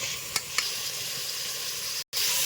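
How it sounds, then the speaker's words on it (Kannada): Fenugreek greens fry in oil with onion and tomato for a rustic mentya bath, giving a continuous close sizzle with a couple of faint stirring clicks and one brief dropout. "ಸೊಪ್ಪು ಹಸಿ ವಾಸನೆ ಬಂದು ಚೆನ್ನಾಗಿ ಫ್ರೈ ಮಾಡ್ಕೋಬೇಕು"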